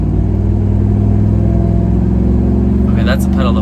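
A 2003 Chevy SSR's engine roars at full throttle, a loud, close, steady rumbling drone with a brief burst of other noise near the end.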